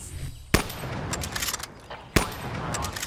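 A video game gun fires rapidly: two loud, sharp bursts stand out about a second and a half apart, with fainter shots and game noise between them.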